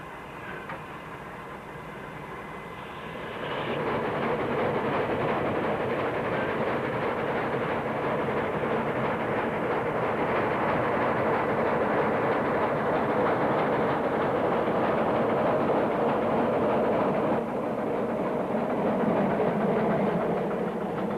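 A Henschel steam locomotive on a narrow-gauge Andean line rolls into La Cancha station in Argentina, its heavy chuffing and rumbling rising after a quieter start and holding steady, close by.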